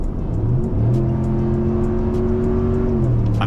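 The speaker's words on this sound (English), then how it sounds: "you can hear that V8 engine roar" A 2026 RAM 1500 pickup with a HEMI V8 engine roars steadily while being driven in normal mode. The loud, sustained engine note climbs in pitch and then holds as the truck pulls along, with no talking.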